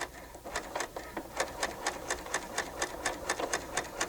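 A Bernina L890 sewing machine stitching fabric to gather it, a close, quiet, rapid mechanical ticking at an even rhythm across a few seconds, with no voices.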